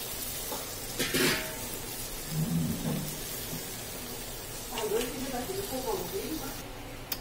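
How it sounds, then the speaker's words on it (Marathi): Ambadi greens sizzle and hiss as they fry in hot oil in a home kitchen pan, a steady low crackle with occasional clatters, while someone talks over it. "आता आपली भाजी छान तेलात फ्राय झालेली आहे"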